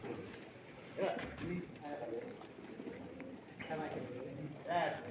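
Domestic pigeons kept for sale at a home coo in low, throaty bursts that recur every second or so, close by, with a murmur of voices in the background.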